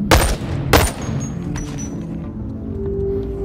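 Two sharp, loud bursts of submachine gun fire in the video game Boneworks crack out close together near the start, then ring off into a low, fading tail.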